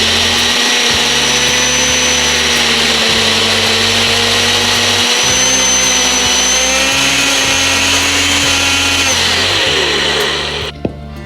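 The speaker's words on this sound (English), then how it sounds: "So this blender comes very handy because you'll need to blend the oats in order to do that recipe" A blender grinds oats into oat flour, a loud steady motor whine with a gritty churning roar that holds for about ten seconds before winding down and stopping with a small knock.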